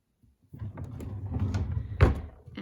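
A storage drawer in a home craft room sliding open with a rumbling scrape that ends in a sharp knock, close by and alone without talk.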